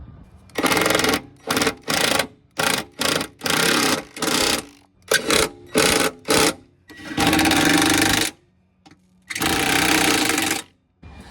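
Bolts on a Lexus LS400 suspension bushing are run down with a power tool, giving a string of short buzzing bursts in quick succession followed by two longer sustained whirrs, loud and close with pauses between.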